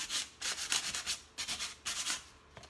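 Rhythmic back-and-forth strokes of sandpaper rubbing on a wooden headboard, about eight quick scratchy passes, close and alone.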